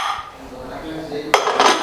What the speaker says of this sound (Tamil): இப்போ ஓப்பன் பண்ணி பார்க்கலாம் குழம்பு எப்படி இருக்குதுன்ட்டு